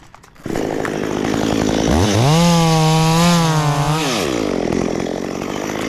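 A chainsaw cuts into a coconut tree trunk, loud and close: the engine idles briefly, revs up to a high sustained whine for about two seconds, then drops back to a rough idle.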